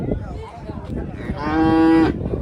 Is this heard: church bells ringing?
no